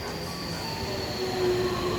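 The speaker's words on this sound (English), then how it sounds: "Here comes the train." A train pulls into a Japanese station at midnight, its wheels rumbling and faintly squealing as the steady noise swells gradually with no one speaking.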